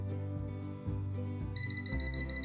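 A Kaiweets KM601S multimeter's voltage detector probe, held near a switched-on power strip, gives repeated electronic alarm-like beeps in a pulsing pattern, close and clear, and a higher tone joins partway through.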